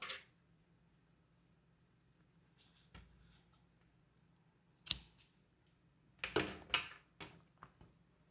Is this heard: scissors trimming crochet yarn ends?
yes